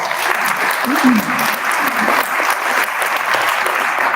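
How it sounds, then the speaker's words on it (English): An audience at an economic summit in Western Montgomery County applauds, a dense, steady wash of clapping that holds for about four seconds, with a brief voice rising through it near the start. "Let's give Sandy a round of applause."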